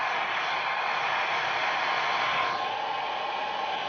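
Hair dryer on low heat blowing steadily at close range to melt a lace frontal wig, a continuous even airflow roar that stays constant throughout with a slight tonal shift partway.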